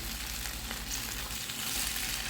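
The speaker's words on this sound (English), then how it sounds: "We add them to the frying pan and we add a little bit more of oil" Steady sizzling and crackling of potatoes frying in hot oil in a pan, a continuous hiss close by with no talking.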